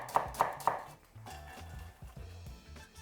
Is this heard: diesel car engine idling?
no